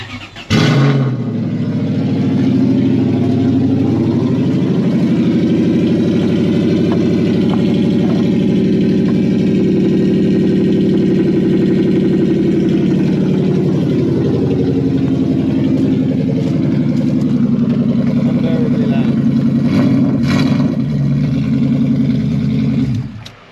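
A Toyota 1UZ V8 in an IS200 runs with no exhaust, straight from the headers into the Y pipe, roaring loud and close at a steady idle, with a brief blip near the end.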